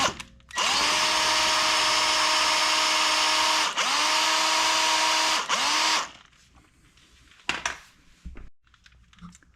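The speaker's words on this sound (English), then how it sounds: "Next thing we're gonna do is take a drill and drill a hole" A power drill with a 1/8 inch bit whines loudly and steadily, dipping briefly twice as it bites into a Honda Odyssey rear brake part, then stops, followed by a few faint clicks and knocks.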